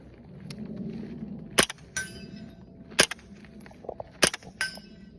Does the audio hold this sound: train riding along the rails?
no